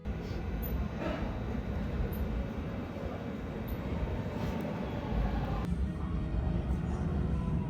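Miyakoji Rapid Service train on platform 4 at Nara Station in Japan, a continuous close rumble of the rolling train with faint metallic clicks, steady and fairly loud throughout, no talking.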